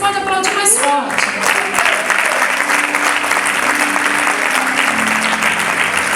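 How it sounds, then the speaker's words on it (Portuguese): A church congregation applauds loudly and steadily, with dense sustained clapping throughout and a voice rising briefly over the start. "Se é para Jesus, você pode aplaudir mais forte."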